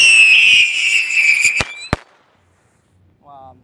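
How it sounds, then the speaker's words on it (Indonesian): A red rat firecracker strapped to a blue toy car fizzes and whistles loudly for over a second, then gives two sharp pops before silence and a short voice. "ini ada mobil mainan warna biru dengan mercon tikusan warna merah"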